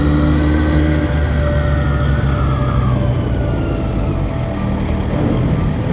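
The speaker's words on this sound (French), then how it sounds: "J'étais pas prêt que le TGV il passe comme ça là." A TGV high-speed train roars past near Boulogne and Calais, a loud, steady rushing rumble with a high whine layered over it, close and continuous throughout without any voices.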